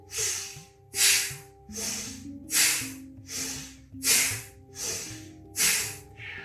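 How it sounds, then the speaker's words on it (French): Bhastrika bellows breathing: about eight forceful, evenly spaced inhale-exhale bursts, close and loud, each a rushing airy whoosh through the nose in a steady pumping rhythm. "Bhastrika, c'est une grande ventilation pulmonaire, elle permet vraiment d'ouvrir, d'oxygéner pleinement"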